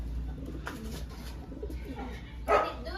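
Soft Vandenbroek pigeon coos come in a few low, throaty bursts, fairly quiet against a faint background hum.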